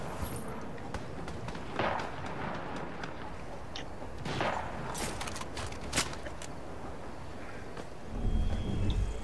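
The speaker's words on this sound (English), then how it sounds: "Who is shooting behind us?" Gunshots in the Fortnite video game crack faintly in the distance as scattered sharp bursts against a low background, with no talk over them.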